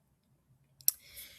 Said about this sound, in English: we're going to click on Next